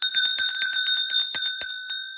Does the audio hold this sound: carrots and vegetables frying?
no